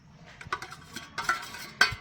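A spoon stirs sliced onions with spices, ginger-garlic paste, green chilli and salt in a bowl for kanda bhaji, giving close, irregular scrapes and light clinks against the bowl with no talking.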